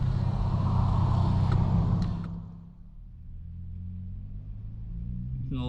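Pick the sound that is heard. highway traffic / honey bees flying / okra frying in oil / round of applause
highway traffic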